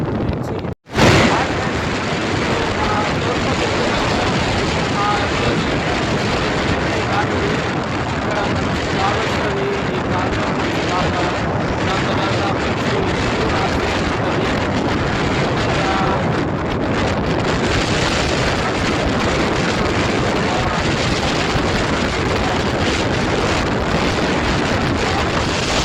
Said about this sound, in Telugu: ఇక్కడ బాగా గాలి వస్తుంది.